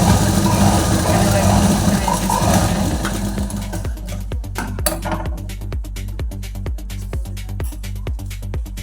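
Sewing machine stitching a small doll dress, running in quick regular bursts of needle clicks alongside a low motor hum; a voice talks over it at the start.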